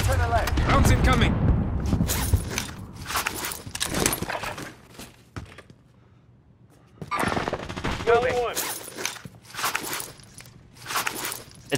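Gunfire in Call of Duty: Modern Warfare, bursts of automatic shots and impacts from incoming rounds in loud clusters with quiet gaps between, while players talk over it.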